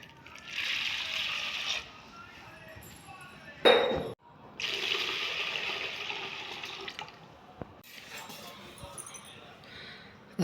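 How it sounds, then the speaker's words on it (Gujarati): About two lotas of water pour over wheat grains in a vessel to soak them. Two steady pours run several seconds each, separated by a sharp splash, close and moderately quiet. "ઘઉં પલાળવા માટે આપણે આશરે 2 લોટા જેટલું પાણી રેડીશું"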